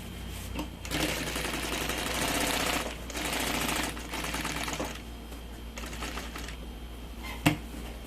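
A sewing machine stitches all around a strap on a large diaper bag, whirring close in rapid bursts that vary in speed, with short pauses and a sharp click near the end.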